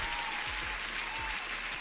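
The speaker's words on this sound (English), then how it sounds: "I forgot to start my soundboard for the applause." Canned applause sound effect played from a soundboard: a short, steady burst of dense crowd clapping, even and uninterrupted, heard alone without talk.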